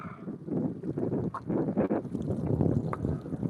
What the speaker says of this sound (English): this wind feels good, but my God, man, it's just killing us.